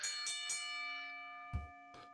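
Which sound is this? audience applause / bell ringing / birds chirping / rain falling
bell ringing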